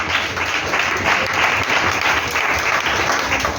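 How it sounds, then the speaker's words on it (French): Church congregation applauding steadily at a men's missionary gathering, a dense continuous wash of clapping with some cheering mixed in, loud and close throughout. "On acclame."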